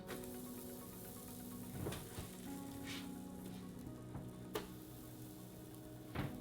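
Thick Fruity Pebbles cereal pancakes cook on a hot griddle with a faint, steady sizzle, dotted with a few small ticks and pops; no talking.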